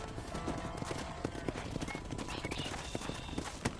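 Horse hooves clip-clopping at a steady trot in the Red Dead Redemption western video game, close and rhythmic, mixed with scattered game sound effects and faint ambient noise.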